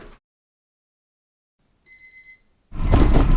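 An alarm clock rings at 3:45 am during an ultra-distance cycling race across France: a short burst of steady electronic beeping in near silence, followed by a loud rush of noise at the end.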